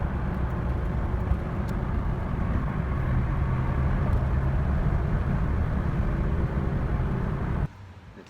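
A Honda S2000 sports car cruising, heard as a steady low engine and road drone from inside the cabin that cuts off abruptly near the end.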